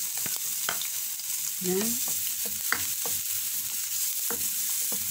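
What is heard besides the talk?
garlic sautéing in pan for pochero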